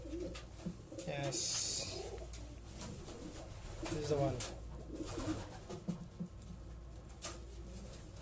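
A racing pigeon, a 600-kilometre day bird, gives several soft coos close by, with a person talking over and between them.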